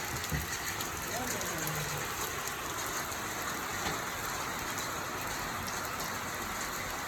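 Steady outdoor rainfall patters continuously across the whole stretch, a dense, even hiss of drops with a faint brief voice-like sound early on.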